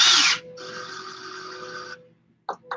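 A power drill spins a link with a rod end held in a Zerba tool, whirring steadily for about a second and a half after a loud burst, then stopping, followed by brief clicks.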